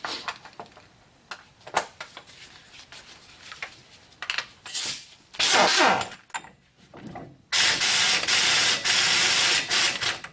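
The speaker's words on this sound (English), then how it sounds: "We'll take this nut off first." A nut is worked off a front wheel hub on a Chevy 2500HD, with close, loud metallic clicks and ratcheting, scraping bursts and several sustained, harsh grinding stretches of tool noise.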